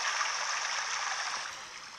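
A river ambience plays from a sound app: a soft, steady rushing hiss of flowing water, quiet and even, thinning slightly toward the end.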